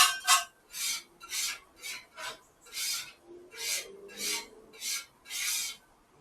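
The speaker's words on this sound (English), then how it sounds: "just kind of scrape up some of that stuff. Get it cleaned up before I put the eggs on here. With my spatula a little bit." Metal spatula scraping across a Blackstone griddle, about ten short rhythmic strokes, close and crisp, with a faint sizzle underneath.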